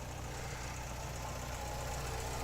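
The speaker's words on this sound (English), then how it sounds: "let you guys have a quick listen to the exhaust for a moment" A Porsche 924 engine idles steadily, its exhaust giving a low, even rumble with a faint knocking pulse, close up and continuous with no talk.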